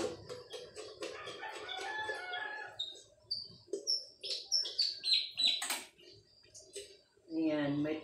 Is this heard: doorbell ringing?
no